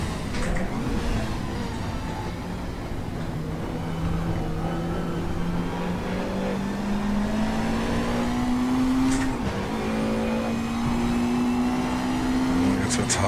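A Mercedes 190 EVO II DTM race car from 1992 drives in the Raceroom sim at the Nürburgring, its engine a steady loud drone climbing slowly through the gears, with brief shifts and a voice commenting over it.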